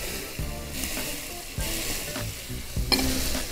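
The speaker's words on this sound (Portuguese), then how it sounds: "Agora eu acrescento o alho." Garlic sizzles and fries in a hot pan as it is stirred, a steady loud crackle with stirring scrapes and a brief clink, and no one speaks.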